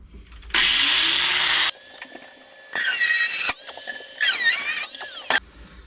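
A power tool's cutoff disc grinds and squeals through rusted sheet metal on a Squarebody Chevrolet C10 truck body, in several loud, close bursts with shifting pitch and brief pauses between cuts.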